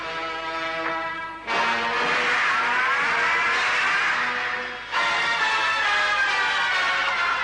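A car engine roars and revs loudly during a chase scene in the 1986 action film Ek Aur Sikander, steady and close, with sharp jumps in pitch as the throttle is pushed, alone without talk.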